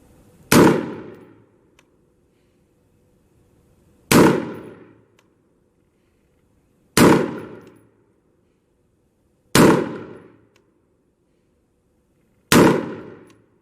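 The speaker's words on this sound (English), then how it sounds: "Shooter, your first stage of fire from the 100-yard line. 5 rounds in a time limit of 30 seconds in the prone." Five single rifle shots fired from the prone position at the 100-yard line of a qualification range, each a sharp loud crack with a short decaying ring, spaced roughly three seconds apart with quiet between.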